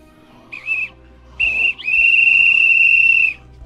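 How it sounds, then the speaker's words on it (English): Whistle blown in a video game: two short shrill toots, then one long steady blast, loud and close. "Dude, I'll blow my whistle too."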